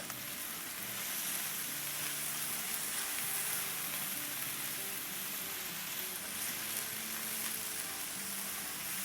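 Chicken stir-fries in a hot pan for a Chinese-style dish, producing a loud, continuous, close-up sizzle with faint stirring underneath.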